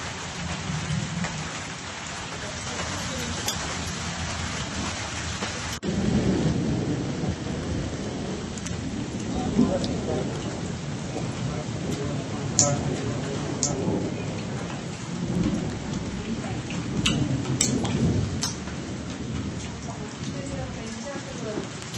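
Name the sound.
heavy rain and thunderstorm with wind in Chikkamagaluru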